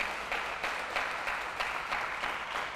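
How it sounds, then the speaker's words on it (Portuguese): Applause from a church congregation during a sermon, a moderate steady patter of clapping with soft rhythmic swells, fairly distant and without talk. "Você podia dar um aplauso então"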